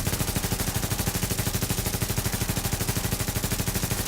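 Black market AK rifle in the video game The Division fires continuously, a steady rapid automatic stream of loud, close shots lasting the whole stretch with no pauses.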